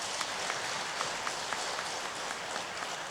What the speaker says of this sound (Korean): 우리 격려의 박수 드리겠습니다.